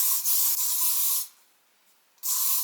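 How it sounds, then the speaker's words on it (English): Lightweight hairspray sprays onto hair in two steady, close hissing bursts: a long spray, a short pause, then a second spray starting. "then spraying it in that position"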